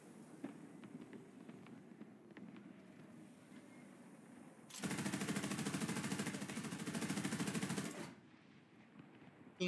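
Rapid automatic gunfire from a Wiesel 1A4 light armored vehicle in War Thunder, a dense loud burst lasting about three seconds after quieter scattered shots and rumbling engine noise.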